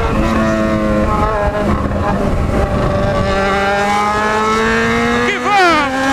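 A Yamaha XJ motorcycle revs and accelerates close by, its engine note rising in pitch through several climbs, with a voice talking over it.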